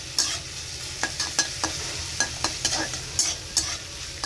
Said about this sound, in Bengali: আর এখানে এখন তুলতুলের বাবার জন্য একটু ফ্রাইড রাইস করে দিচ্ছি